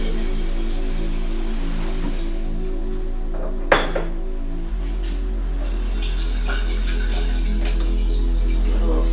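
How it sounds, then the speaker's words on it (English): Water pours into a jar to fill it about halfway, a steady splashing stream whose pitch shifts partway through as the level rises, with a sharp clink of glass along the way. "And then fill the jar about halfway with water."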